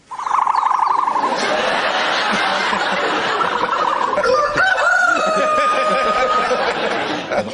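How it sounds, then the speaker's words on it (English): An ostrich call played back as a recording, loud and steady for about seven seconds, with a rough, booming, bird-like quality that at times resembles a rooster's crow, and no talking. "And this is the sound of an ostrich."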